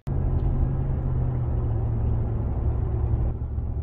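A truck towing a trailer on a Colorado highway gives a steady, close engine rumble and road drone with constant tyre noise throughout, no voices heard.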